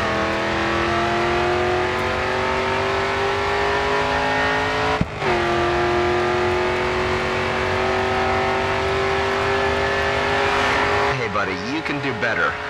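A race car engine at full throttle in the racing video game GRID 2, a loud sustained engine drone rising steadily in pitch through the gears, with a brief break midway and tire noise near the end.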